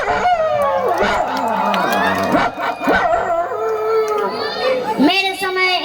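On a live stage comedy show, a performer's voice imitates a dog, howling and yelping in drawn-out, wavering cries, with audience noise and children's voices around it.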